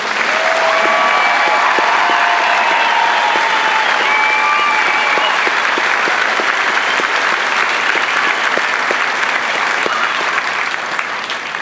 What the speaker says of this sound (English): how about a round of applause for these exceptional airmen?